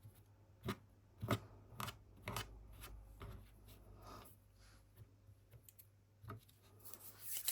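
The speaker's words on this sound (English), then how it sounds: "I'm going to trim a little bit here." Scissors trim scrap packaging for a journal cover in a quiet room, making a series of close, separate snipping cuts at an irregular pace, with no talking.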